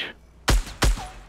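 Two loud, sharp gunshots about a third of a second apart in a Fortnite match, fired at a bush, each with a heavy low thump and a quick fade.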